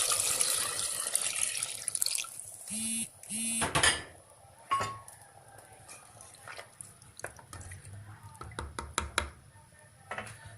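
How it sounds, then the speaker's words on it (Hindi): Hot water is poured into fried mutton in a clay pot while making kunna, giving a sloshing pour followed by scattered drips and knocks of utensils, fairly close and moderate in level. "अब मैं इसमें ऐड करूँगी पानी।"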